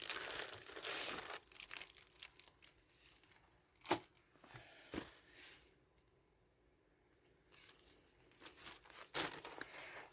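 A plastic wrapper around a packaged napkin is pulled and torn open with close, rustling crinkles and a few sharp rips, alternating with quieter pauses.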